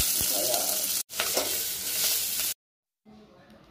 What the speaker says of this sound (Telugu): అవి బాగా వేగాలి వేగాలి అంటే డీప్ ఫ్రై కాదు షాలో ఫ్రై కానీ బాగా వేగాలి